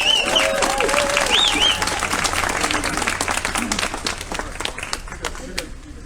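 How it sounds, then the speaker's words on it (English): A press conference audience gives a round of applause, steady clapping that slowly thins out, with voices and cheers mixed in at the start. "So, round of applause for Jan."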